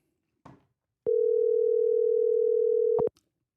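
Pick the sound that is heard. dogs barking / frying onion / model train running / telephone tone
telephone tone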